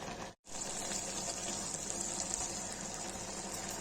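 Water pouring steadily into a green beans and mushroom curry in a pressure cooker, a continuous close gush that starts after a brief gap and runs to the end, with no talking.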